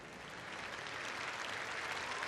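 Applause from a velodrome crowd at a UCI Track Cycling World Cup in Glasgow, during the men's sprint: a steady, dense wash of clapping and cheering that fills the whole moment without a break.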